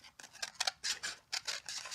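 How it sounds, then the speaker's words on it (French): Two pairs of scissors cutting at once, one in each hand, give a quick run of crisp snips and slicing swishes in an uneven rhythm, close up and clear, with no voices. "Tu découpes avec 2 paires de ciseaux en même temps?"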